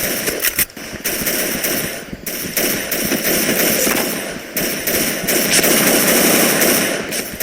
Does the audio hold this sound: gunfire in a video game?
yes